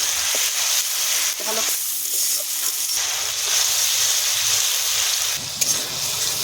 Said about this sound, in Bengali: আদা রসুন বাটা দেবো, টমেটো বাটা দেবো, ভালো করে নাড়িয়ে নেব একটু।